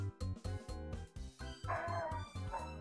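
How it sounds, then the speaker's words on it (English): Dogs bark in a quick run of repeated woofs and yips close by, with a few whimpering notes mixed in. "And my dogs are barking."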